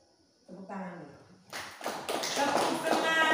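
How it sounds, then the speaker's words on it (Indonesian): Hands clap in quick succession during a primary school science lesson, a dense burst of claps that follows a short stretch of talking. "Tepuk tangan dulu."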